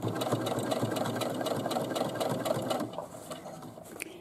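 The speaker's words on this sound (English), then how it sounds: "And then I'm going to stitch all the way around continuously in a circle." A sewing machine stitches continuously around the top hem of a fabric bag, a rapid even mechanical whirring that runs steadily and then slows and eases off near the end.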